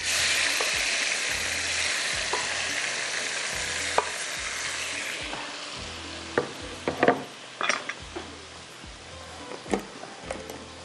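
Cumin, tomatoes and garlic fry in a karahi-style pan with a steady, close hiss that fades partway through, broken by sharp spatula scrapes and clinks of stirring toward the end.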